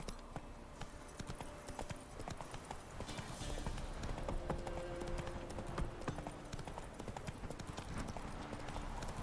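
Roach, Geralt's horse in The Witcher 3, gallops in a fast, steady clip-clop of hooves that continues throughout, fairly faint and on its own.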